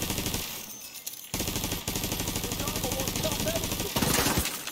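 Automated turrets firing in The Division 2, a steady rapid stream of gunfire bursts that carries loud and continuous, with a brief gap early and a heavier burst near the end, mixed with game sounds.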